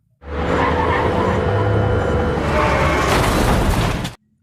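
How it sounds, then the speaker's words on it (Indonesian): A truck slams into the rear of an ambulance in the film The Paramedic: one loud, sustained crash of crunching metal and skidding, about four seconds, heard alone with no voices. "mobil ambulans mereka ditabrak oleh sebuah truk di bagian belakang ambulans"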